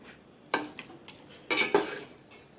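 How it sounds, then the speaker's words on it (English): A spoon scrapes and clinks inside a pot while cooked bhuna jeera mutton curry is mixed off the flame, two short bursts of stirring with faint knocks between, close and soft. "Put the flame off and mix it a little bit"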